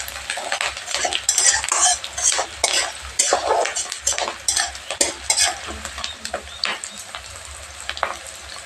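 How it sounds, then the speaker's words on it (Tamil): Onions sauté in a pan, sizzling and frying steadily while a spoon stirs and scrapes repeatedly against the metal, close and clear, with no talking. "ஸோ வெங்காயம் நல்லா வதங்கிட்டு இப்போ தக்காளி போடுறோம்"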